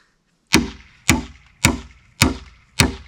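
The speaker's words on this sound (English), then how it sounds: "this hammer is perfect for this job" A hammer strikes wood during a barn build, five sharp, evenly spaced blows about half a second apart, each a close, loud crack with a short woody decay and no voices.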